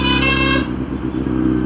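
Busy road traffic inside a crowded stretch near a tunnel, with a loud, steady horn blaring close by for the first half before giving way to rumbling motorcycle and car engines and scattered honks, no talking.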